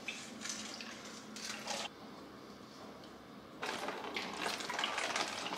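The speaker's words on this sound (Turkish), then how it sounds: "Limonatamı da süzmek istiyorum." Homemade lemonade is strained and poured into a five-litre bottle, a steady trickling and splashing of liquid that swells in two louder bursts, with no talking.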